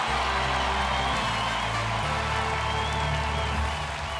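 Audience applause for a Ukrainian singer at a song concert, a steady wash of clapping and some cheering held over sustained low musical tones throughout.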